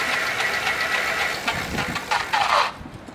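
A small motorized bicycle engine runs steadily up close, with a rough knocking chug throughout and a brief rise in pitch near the end before it cuts away.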